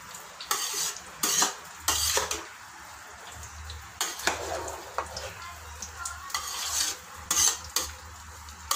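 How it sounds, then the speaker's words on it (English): A spoon scrapes and stirs biryani in a pot in several separate strokes, the knocks against the metal standing out over a soft, faint sizzle, with no talking. "Give it a small mix."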